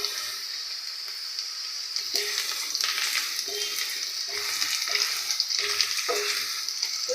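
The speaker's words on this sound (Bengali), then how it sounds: "মরিচ, পেঁয়াজ, রসুন হালকা বাদামি কালার করে ভেজে নেব" Chilli, onion, garlic and whole cumin fry in hot oil, a steady bright sizzle with occasional stirring scrapes, close and continuous with no talk.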